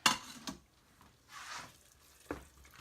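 Coq au vin being stirred in a pot, a few short scraping strokes and clinks of a spoon against the pot over a soft sizzle, close and intermittent.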